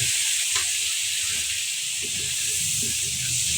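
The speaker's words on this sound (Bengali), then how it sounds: "মশলা ভাজার জন্য মশলাটার একটু এই যে হালকা একটু পানি দিচ্ছি" Water poured onto spices frying in hot oil sets off a steady, loud hissing sizzle that continues throughout, with a person talking quietly underneath.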